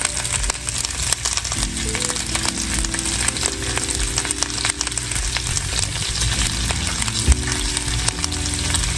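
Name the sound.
onion, bacon and red jalapeno frying in a pan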